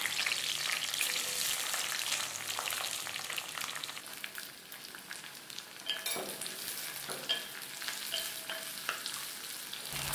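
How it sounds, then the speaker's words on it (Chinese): Onion and garlic stir-frying in hot oil in a wok, a continuous crackling sizzle with occasional clinks and scrapes of a spatula, soft and close, no talking. "放入洋葱和大蒜炒香"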